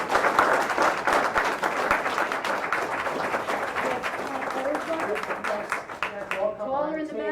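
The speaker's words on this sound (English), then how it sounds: "We got a big round of applause for 2016." A big round of applause at a borough council meeting, dense clapping from a room full of people that thins toward the end as voices begin to talk over it.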